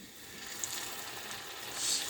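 Chicken pieces fry in hot oil for a fried chicken dish, giving a steady, close hiss of sizzling that swells slightly toward the end, with no voices.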